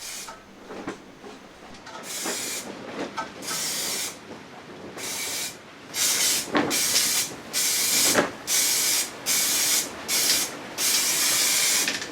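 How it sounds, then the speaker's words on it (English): Zinc weld-through primer sprayed from an aerosol can onto a Talbot Express camper van inner wing repair panel: a series of loud, close hissing bursts, several short then longer blasts with brief pauses between. "I'll use the same zinc weld through primer as I did before."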